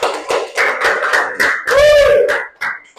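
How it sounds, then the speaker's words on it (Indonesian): Rhythmic classroom clapping for a student group, several sharp claps in a row and then a brief burst of applause, fairly close, with some talk mixed in. "tepuk tangan untuk kelompok 4"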